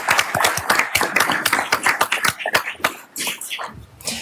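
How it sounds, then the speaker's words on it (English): Sparse, uneven hand claps from a small group at a county board meeting, individual claps distinct and close, with a few murmured voices underneath. "I'd love to give them a round of applause"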